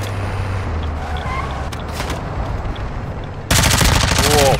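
A boss fires a rapid, loud burst of gunfire in a shooter game. Near-continuous rattling shots break in sharply over a steady rumbling background.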